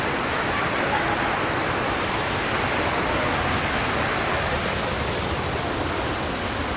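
Curug Cibaliung, a hidden waterfall near Bogor, roars with a dense, constant rush of falling water, loud and close, unbroken throughout with no other sounds standing out.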